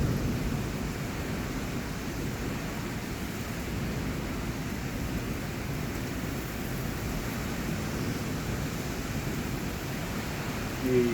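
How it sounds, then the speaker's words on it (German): Heavy, strong rain falls steadily in a dense, even wash that holds at one level from start to finish, with no voices over it. "Ein richtiger Regen, ne?"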